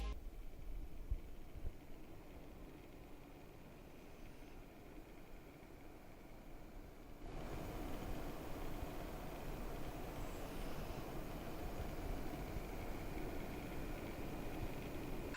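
PC fans in a Threadripper desktop idling in silent mode give a steady, faint broadband whoosh with a slight tonal hum, rising a little in level about halfway through and continuing without pause.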